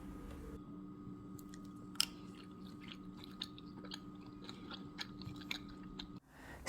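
Chewy Korean rice cake slices from Trader Joe's are chewed close up, soft sticky mouth sounds and occasional sharper clicks over a quiet background hum.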